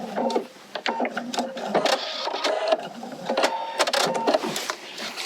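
A sewing machine stitching the corner binding of a quilt, close up, in short stop-start runs of rapid mechanical clatter broken by brief pauses and handling clicks.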